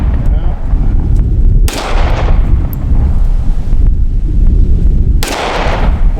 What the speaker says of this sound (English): Well, this wind is whipping.